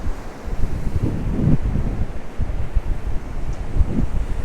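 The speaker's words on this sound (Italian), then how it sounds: "c'è vento forte e ti entra ovunque" Strong wind sweeps across the shore of Lake Garda, roaring and buffeting the microphone in a continuous loud rumble with gusty swells and no voices.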